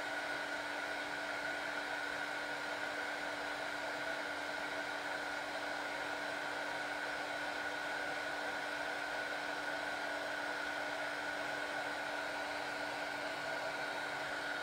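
Heat embossing tool blowing hot air over a handmade card, a constant whooshing fan hiss with a faint high whine, even and uninterrupted throughout.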